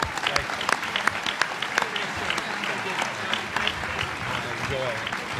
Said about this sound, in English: How about a round of applause for our speakers today?